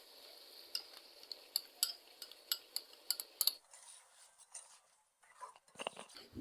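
A spoon gently stirring chicken liver with yogurt in a pan: a run of light, regular metallic clinks and scrapes, then a quieter stretch of soft bubbling and a few last stirs.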